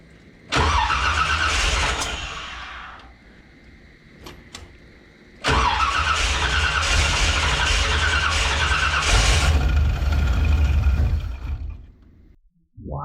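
A 1981 Corvette engine cranks and squeals in two long, loud bursts separated by a pause, straining without settling into a steady idle.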